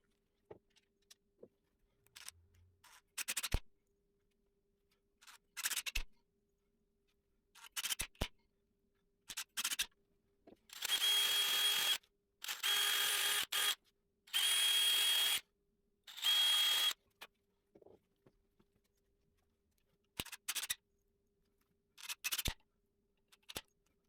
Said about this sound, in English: I attach both the foot part and the top part with 4 screws.